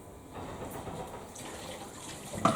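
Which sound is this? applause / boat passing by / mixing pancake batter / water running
water running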